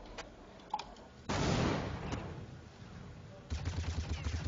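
Gunfire during a competitive team shooter video game match, with scattered sharp shots, a louder burst of fire and a rapid stuttering volley toward the end, heard alongside in-game ambience.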